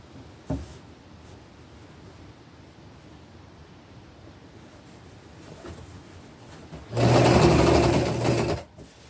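A sewing machine stitching a knit shirt for a princess dress whirs loudly in one burst of about two seconds near the end, after quiet room tone and a single sharp knock.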